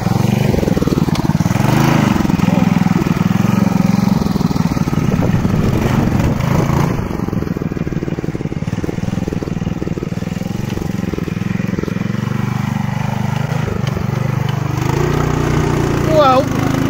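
A Manco Big Cat monster bike with a swapped big block engine runs loud and steady throughout, its rough drone holding close with a brief surge near the end while voices talk over it.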